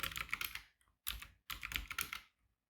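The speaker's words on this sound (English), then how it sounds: "Just type in a short passphrase here." Passphrase typed on a computer keyboard while encrypting an OpenBSD 7.6 installation: three close, clicky bursts of rapid keystrokes separated by short pauses, with no voice.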